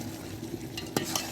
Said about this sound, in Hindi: सारे मसालों में चिकन को अच्छी तरह से भून लेंगे हम।